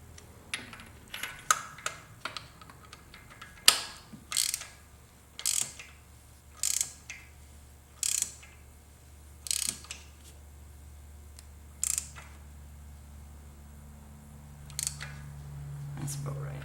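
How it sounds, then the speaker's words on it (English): A calibrated torque wrench ratchets while tightening spark plugs on a kei car, with short, sharp clicking bursts spaced a second or two apart over a faint background hum. "Using my calibrated torquing arm."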